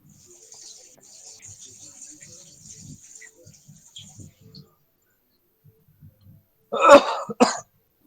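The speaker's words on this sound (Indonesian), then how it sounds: "Batuk itu di mute dulu" Two sharp coughs close to the microphone near the end, following faint, quiet speech and a stretch of near silence.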